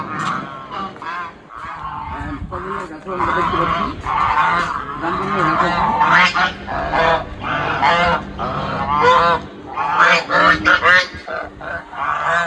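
Geese honk loudly and repeatedly along with other fowl, a dense chorus of bird calls throughout, with a person speaking briefly over it.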